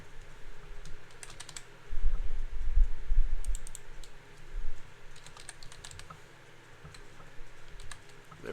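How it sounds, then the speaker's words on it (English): Someone typing in a notepad on a computer keyboard, a close, quiet stream of irregular key clicks in bursts, with some low desk thumps. "I'm just typing in a notepad."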